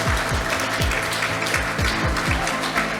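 An audience at a Korean green-building award ceremony applauds the contest winners, a steady crowd clapping with low background rumble.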